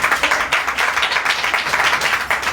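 A church congregation claps together to welcome visiting ministers, a dense, steady wave of many hands with a slight pulsing rhythm, sustained and fairly close throughout.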